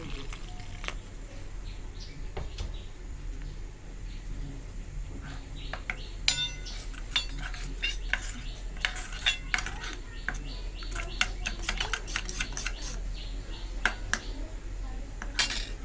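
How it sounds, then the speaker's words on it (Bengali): Spoon clinking against a small bowl while spices are stirred into water for a Bengali potato curry (aloo dum), light metallic taps scattered and clustering in the latter half, under a steady low kitchen background. "মশলা একটু জল দিয়ে গুলে নেব"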